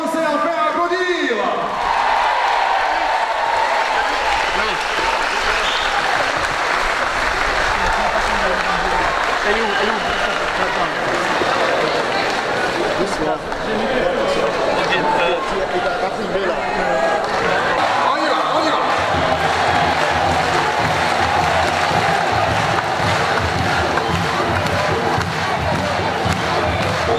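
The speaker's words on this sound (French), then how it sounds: "Et si maintenant, à mon signal, on commençait à faire applaudir." A standing crowd at a mayor's investiture ceremony in Le Gosier bursts into loud, continuous applause mixed with cheering and shouts, a dense roar that holds steady for the whole stretch with voices audible throughout.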